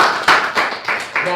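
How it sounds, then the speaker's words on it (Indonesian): Several hands clap in a loose rhythm at close range, a few bursts spread across the moment, with voices present alongside. "Kasih tepuk tangan dong, luar biasa."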